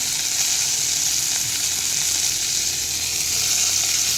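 Onion, green chili, ginger, coriander and garlic sautéing in a pan over low heat, a dense, even, hissing sizzle that holds steady throughout, close and alone.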